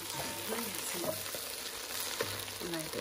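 Cameroonian Njama Njama greens frying in a pan, with a steady close sizzle and crackle broken by the scrape and clatter of stirring.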